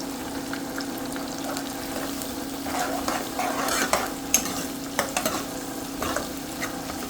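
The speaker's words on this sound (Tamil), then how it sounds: "வெங்காயம் நல்லா வதங்கணும்." Onions sauté for a Tamil fish curry (meen kulambu), crackling in a pan under a steady hum while a spoon scrapes and clinks in irregular strokes, louder in the middle stretch.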